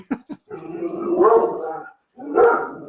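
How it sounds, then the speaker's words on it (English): Hound dogs bark and bay outdoors, close and loud, with a few short yips, then one long drawn-out bark, a pause, and a final shorter bark. "Our hound dog."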